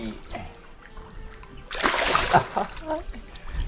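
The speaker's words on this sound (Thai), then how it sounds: "เจ้าไม่ต้องสาดน้ำใส่ข้ามากขนาดนี้" A pangasius fish thrashes and splashes in the water, a burst of loud splashing and spray following quieter water and background sounds, with some speech nearby.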